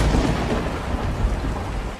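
Heavy rain pours steadily in a cartoon story, with deep thunder rumbling through it, loud and continuous for the whole stretch with no voices.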